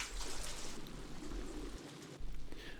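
Water bubbles and gushes up a pipe, lifted by air from a 1-inch aquarium air stone fed by a small aquarium compressor, a steady close trickling churn with a brief surge near the end.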